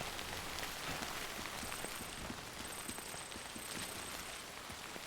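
Timefall rain in the video game Death Stranding, a dense steady patter of rain falling on surfaces, close and continuous, with no talking.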